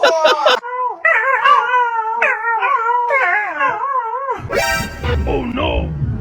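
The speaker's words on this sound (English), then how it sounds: "What the dog doing?" A dog howls loudly and close, a long wavering, warbling cry in several swells, ending in a burst of noisy scuffling and yelps.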